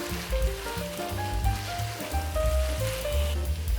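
Onions and garlic sizzle and crackle in a pan for a pastitsio sauce, a steady dense hiss with scattered pops running alone throughout at close range.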